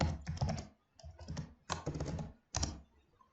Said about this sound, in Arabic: نكتب المعلومات بفايل راح سميها تشيك.